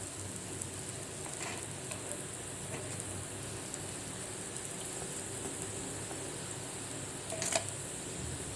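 A sweet dry-fruit chapathi frying in a pan with ghee gives off a steady, soft, rain-like sizzle close by, with a couple of faint clicks near the end.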